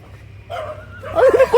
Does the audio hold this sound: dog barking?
yes